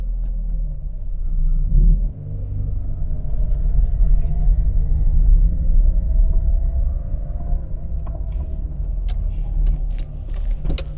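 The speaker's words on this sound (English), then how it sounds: "Such a good little engine." A small 1990s Fiat Cinquecento with an 899cc engine runs on the road with a steady, loud low rumble, and a few faint clicks come near the end.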